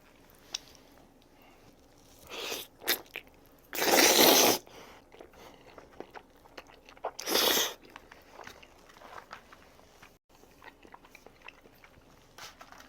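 Someone eats jajangmyeon, black-bean sauce noodles, at a Hong Kong Banjeom branch in Osaka, with soft wet chewing and slurping and two louder bursts of slurping noodles up close, without talk.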